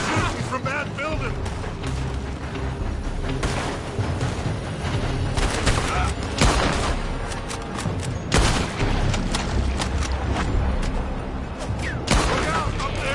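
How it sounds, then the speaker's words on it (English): A shootout in the video game Red Dead Redemption II, with bursts of loud gunfire and booming shots spread through the scene, heard under and between urgent shouted voices. "They're shooting from that building!"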